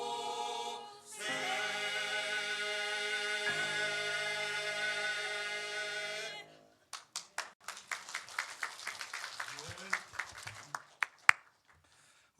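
A church congregation at a Sunday service claps in blessing, a burst of scattered, uneven handclaps growing sharper toward the end, following a sustained sung or organ-like tone.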